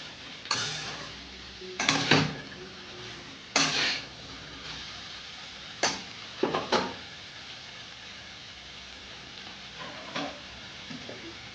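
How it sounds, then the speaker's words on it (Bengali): Pui greens and shrimp are stirred in a pan, a handful of scattered knocks and scrapes of a spoon against metal over a faint steady background. "একটু নেড়ে নেব।"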